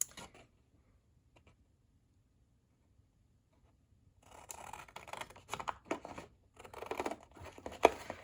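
After a quiet stretch, scissors snip and crunch through stiff cardstock in a quick series of close, crisp cuts.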